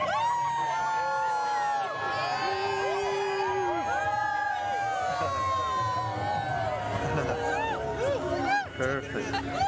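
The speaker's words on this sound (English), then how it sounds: "I'm gonna ask everybody to give a big cheer" Crowd of wedding reception guests cheering and whooping together, loud and sustained with overlapping voices and shouts throughout.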